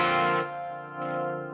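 A clean electric guitar chord rings out through a chorus effect, one strum decaying then a second lighter strum near the end, shimmering and close with no talking.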